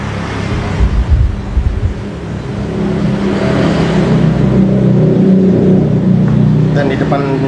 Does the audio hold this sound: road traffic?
yes